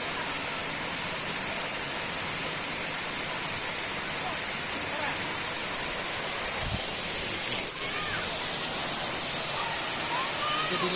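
Waterfall in Atimonan, Quezon, a steady, loud broadband rush of falling water filling the scene, with faint voices briefly audible beneath it.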